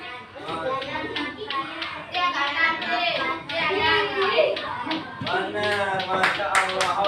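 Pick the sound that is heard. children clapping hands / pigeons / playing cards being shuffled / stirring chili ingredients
children clapping hands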